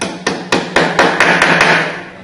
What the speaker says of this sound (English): We hammer the hook up into the wheel.